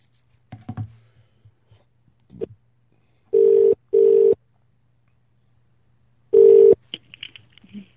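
A call to Swansea City football club starts with a few soft clicks of dialing, then a steady ringback tone sounds as two quick bursts, a pause, and another burst.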